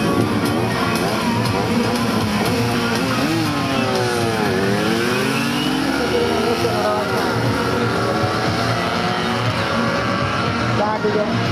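Small old two-stroke Yamaha motorcycle racing at the Mezőtúr T.M.K. Cup, its engine note droning and sweeping up and down in pitch under a loud, continuous roar of other race machines, with no pause throughout.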